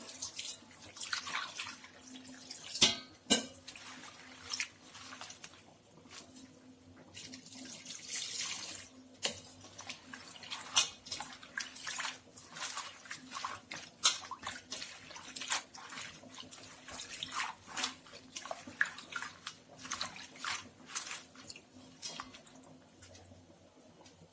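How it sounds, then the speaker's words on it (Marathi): Farm-picked safflower greens are rinsed in water in a kitchen, with steady running water, splashes and drips continuing for a long stretch and a faint background hum, no voices. "ही करडईची भाजी आपल्याला धुवून घ्यायची।"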